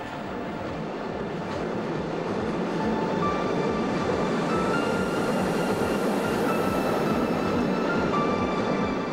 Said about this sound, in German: Ein Vollzug, das heißt 4 Viertelzüge oder 8 Wagen, rollt auf der S5.